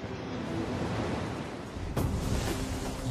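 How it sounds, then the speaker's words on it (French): Ocean waves driven by wind surge and wash in a broad, roaring sound effect for a documentary about a water-covered planet, with a louder swell near the end and no speech. "Les vents créent des vagues."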